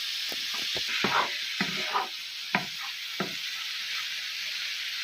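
Bacon sizzles steadily in a frying pan while a utensil stirs it, with soft scraping strokes and clicks scattered over the constant hiss during the first few seconds.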